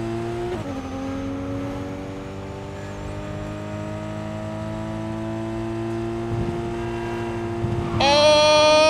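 Jackie's motorbike in Cyberpunk 2077 holds a steady engine drone with layered harmonic tones that swell into a louder, higher-pitched rev near the end, with no one talking over it.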